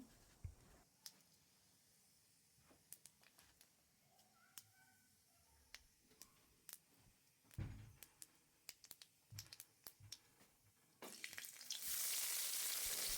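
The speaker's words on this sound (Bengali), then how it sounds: "এবার আমি কড়াইতে কিছুটা পরিমাণে সর্ষের তেল দিয়ে দেব, দিয়ে তাতে কালো জিরে দিলাম" Nigella seeds in mustard oil in a wok: sparse, faint crackles and pops, then a sudden loud, steady sizzle that fills the final two seconds.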